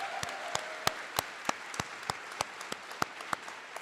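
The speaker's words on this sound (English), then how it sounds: "please remain standing to enjoy the applause" Applause at an evening high school commencement ceremony, heard as sparse, distinct claps at a steady rhythm over a soft hall background, moderately distant.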